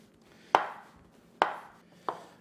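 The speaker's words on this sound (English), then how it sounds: "all I'm gonna do is chop it up into small cubes" Three sharp knife chops on a cutting board as smoked brisket is cut into small cubes, evenly spaced and close, each thud ringing briefly in a quiet kitchen.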